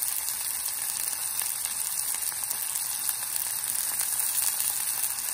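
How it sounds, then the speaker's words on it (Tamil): Onions and chopped green chillies frying in a pan for a Chettinad eggplant side dish give a steady, bright sizzle that runs without a break, close and even, with no talking. "இப்போ வந்து வெங்காயம் போட்டுக்கலாம். கொஞ்சம் பச்சை மிளகாவும் போட்டுக்கலாம்"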